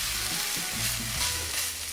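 An okonomiyaki, a Japanese pancake, sizzles loudly and steadily on the hot pan right after being flipped, with a close, continuous crackle of frying.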